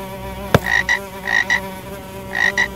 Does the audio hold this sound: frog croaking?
yes